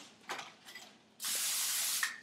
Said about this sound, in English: I'm just going to take some Pam and I'm just going to spray it on